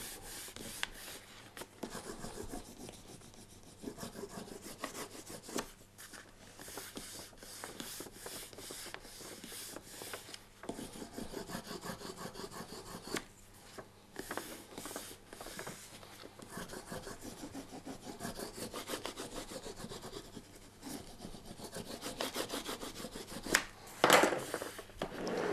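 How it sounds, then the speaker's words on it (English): Rubbing down a book cover during bookbinding, continuous close dry scraping and brushing strokes of hand on material, steady and fairly quiet with no talking. "Give it a good rub down."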